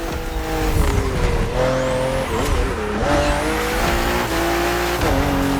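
BMW M race cars scream along a narrow, twisting circuit in the driving game The Crew Motorfest. Loud, close engine roar rises and falls through gear changes, with tyres squealing in the sharp bends.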